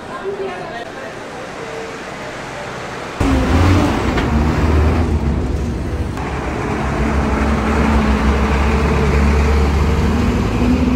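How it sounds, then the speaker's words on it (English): Street traffic in Antigua, Guatemala, with chicken buses rumbling past. A heavy engine drone swells in partway through and stays loud and close, mixed with passing cars, while people talk over it. "Those are called chicken buses."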